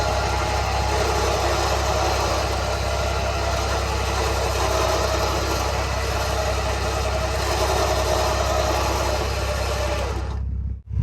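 A 13,000 lb winch strains to pull in a Jeep Grand Cherokee, a loud, continuous motor drone with a steady low hum and whine running unbroken for about ten seconds before cutting off abruptly.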